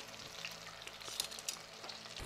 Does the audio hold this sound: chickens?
no